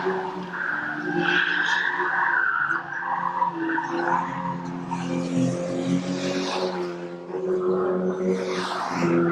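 Stock cars spin and skid on an oval race track, with loud sustained engine roar and tire squeal over a steady crowd and track din, continuous and close.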